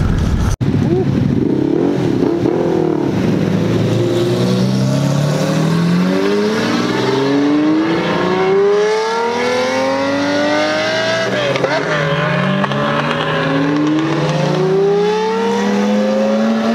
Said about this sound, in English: LFA is leaving.